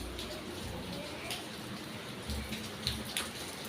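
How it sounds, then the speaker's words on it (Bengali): Afternoon rain falls outside a house in a soft, steady patter, with scattered louder drops striking a surface now and then; no one speaks. "তো একটু বৃষ্টি আজকে হচ্ছে দুপুরবেলায়, ভীষণ ভালো লাগছে বৃষ্টিটা হচ্ছে"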